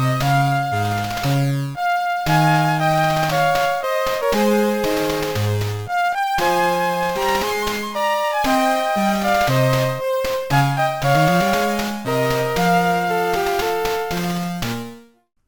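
Main theme music from the Nobunaga's Ambition video game series, first introduced in the third game: a bright melodic instrumental piece with steady stepping notes and layered harmony, playing loud and continuous with no talking, then ending abruptly.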